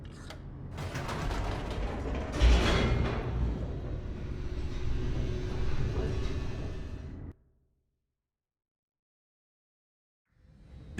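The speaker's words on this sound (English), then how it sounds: "The elevator raced downward" An elevator descends in The Stanley Parable, a loud mechanical rumble with creaking, grinding gears for about seven seconds before cutting off into silence, then a faint return of noise at the end.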